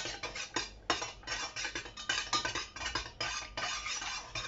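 Crayon being stirred into melting candle wax and dye: quick, repeated clinking and scraping strokes of a utensil against a container, steady and close.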